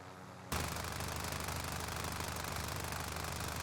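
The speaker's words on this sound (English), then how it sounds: "Now the helicopter" Helicopter engine in the video game Warzone, a loud steady mechanical drone with rapid pulsing that starts abruptly and then holds continuously without talk.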